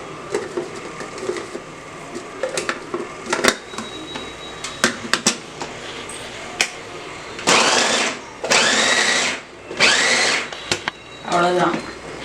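An electric chopper whirs in several short loud bursts while cutting a large batch of onions, about a hundred or more, with clicks and handling noises between the runs.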